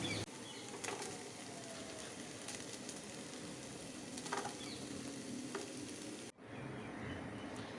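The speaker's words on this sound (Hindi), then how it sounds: "इसको 5 मिनट तक पकाएंगे या जब तक ये वाइट हो जाता है, अच्छे से फ्राई कर लेंगे।" Minced meat and onion fry in a pan with a steady, dense sizzle, a few stirring scrapes along the way and a brief drop in the sound near the end before the sizzle resumes.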